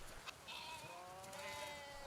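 Goats on a dairy livestock farm bleat in a close, wavering cry that lasts about a second and a half, over low farm background noise.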